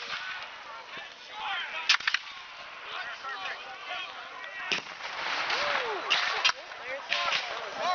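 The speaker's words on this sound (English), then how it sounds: "it appears the British guns are getting involved in this as well" Gunfire at a War of 1812 battle reenactment, with several sharp, separated musket or cannon reports at middling distance and crowd voices talking in between.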